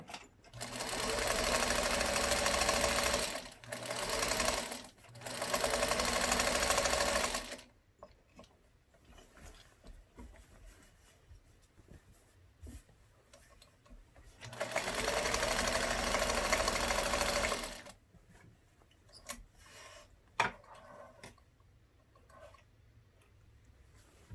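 Close, loud sewing machine stitching around the fabric edges of a hat, running in two long steady whirring bursts separated by quiet stretches with light handling clicks and taps.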